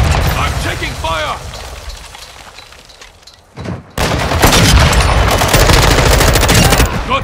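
Sustained automatic gunfire in Call of Duty Modern Warfare 2, loud and dense with rapid bursts and mechanical clatter, briefly dropping to near silence before an even heavier barrage resumes, with in-game voices calling out over it.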